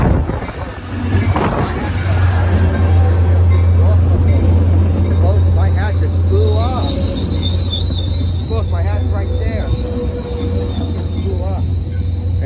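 An ACE commuter train, a doubleheader numbered 3103, rolls into Santa Clara station with a loud close rumble and repeated squealing wheels over several seconds, while someone talks over it.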